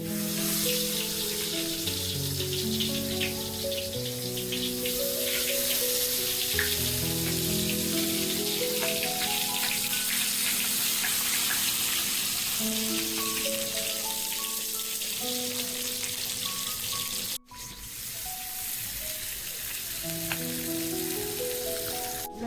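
Eggs sizzle and spatter in hot mustard oil in a pan, a steady close crackling fry with dense popping that runs on continuously, briefly cut off once before resuming.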